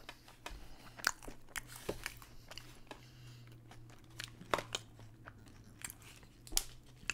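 Crunchy Steak N Shake fries being bitten and chewed close to the mic, with sharp, irregular crunches over a low steady hum and no talking.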